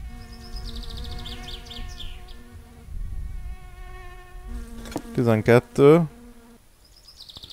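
Flies in the video game My Summer Car give a sharp, rising buzz in two loud bursts near the end, following a calmer stretch with low hum and background game noise. Someone speaks a single word just before the bursts.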